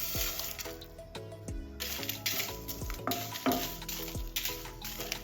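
Whole spices, namely cumin, mustard seed, fenugreek, cloves, cardamom, cinnamon and Kashmiri chillies, are stirred in a pan while dry-roasting, with scraping strokes, light crackling and a few tonal clinks of utensil on metal, heard close up.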